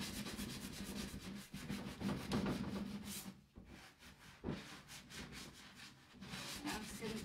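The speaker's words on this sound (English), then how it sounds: "I'm just going to give it a very light sand." Furniture coated in chalk paint and texture paste gets a light hand sanding, with quiet, rhythmic back-and-forth rubbing strokes close by and a brief pause partway through.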